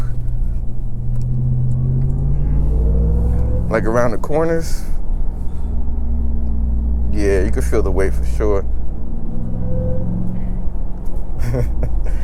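A 2023/2024 RAM 1500 TRX Havoc Edition heavy truck cruising on the highway, its low steady engine drone and road rumble continuous and close inside the cab, with people talking over it at intervals.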